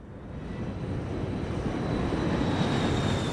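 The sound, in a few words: airliner descending in flight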